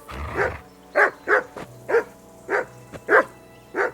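A dog in Kingdom Come Deliverance II barks repeatedly at close range, about seven loud, punchy barks in quick succession after a brief low growl.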